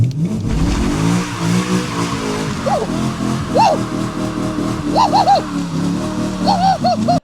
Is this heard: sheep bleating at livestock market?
no